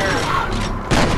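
A shotgun blast in the first-person shooter FEAR lands as a loud, sudden booming burst near the end, above a dense bed of game noise and combat clatter.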